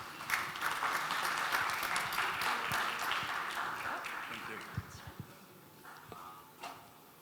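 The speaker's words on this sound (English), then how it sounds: "Please give him a big round of applause" Full applause from an audience at a wealth and investment summit welcomes a presenter, a dense burst that gradually thins and fades out into a few last scattered claps.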